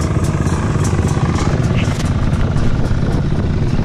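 Beta 125 dirt bike fitted with a Yamaha WR engine of about 15 horsepower, running steadily and loud up close with a continuous throaty drone, under outdoor noise and bits of talk.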